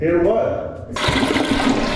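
Toilet flushing in a house at night, a loud rushing, gurgling swirl of water that starts abruptly and keeps going steadily, heard close by after a brief spoken question.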